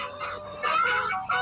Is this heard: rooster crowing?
yes